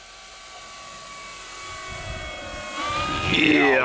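A giant Draco Wilga 2.0 m RC model airplane with landing flaps down flies past, its engine whine rising steadily and growing louder and nearer toward the end, with no talk over it.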